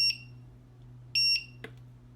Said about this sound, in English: Wait for 3 beeps.